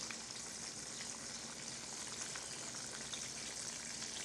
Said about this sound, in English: Ain't doing nothing but frying bread.